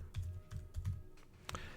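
Typing on a computer keyboard during a Linux install, with a quick run of close, crisp key clicks in an uneven rhythm, heard alone.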